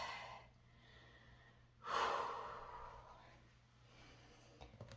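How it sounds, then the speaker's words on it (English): A single deep breath, one long, soft inhale and exhale about midway through, close and quiet against a low background hum. "Deep breath, relax."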